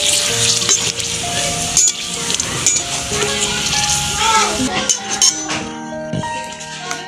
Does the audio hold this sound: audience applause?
no